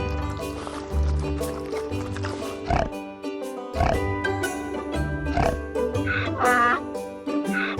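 Pigs grunt and oink in short repeated bursts on a Swiss hiking route, fairly close, with a steady low rumble and some scattered noise in the background; no talking.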